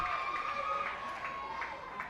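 Baseball crowd at a minor league game between Reading Fightin Phils and Bowie Baysox cheering, a steady moderate roar from the stands lasting a couple of seconds without speech.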